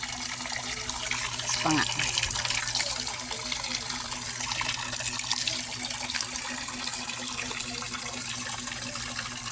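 Free-flowing water from an outdoor tap or spring used for drinking and washing, a constant close rushing and gushing stream throughout, with a brief voice speaking over it.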